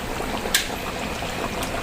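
Broth simmering in a pot, a steady bubbling hiss with a brief splashy pop, close and moderately loud with no one talking.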